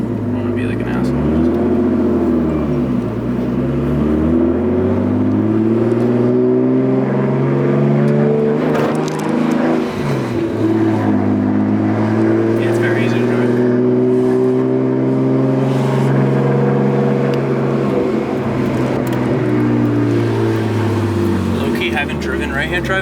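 A fully built Nissan R34 Skyline GT-R's engine drones loudly from inside the right-hand-drive car while driving, its pitch rising and falling steadily as it shifts through the revs, with a voice talking over it at times.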